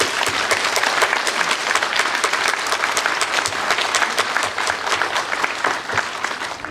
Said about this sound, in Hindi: हाथ ऊपर करके जोरदार तालियां बजा लीजिए